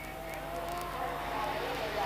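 Hannu Mikkola's rally car accelerating hard up a hillclimb, a loud sustained engine roar with a rising pitch heard from a distance, with a commentator talking over it.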